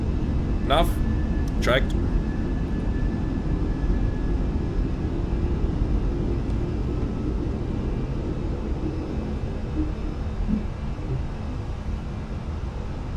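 An A320 jet climbing after takeoff from Frankfurt in a flight simulator, with a steady, loud engine roar that holds throughout and brief spoken callouts near the start.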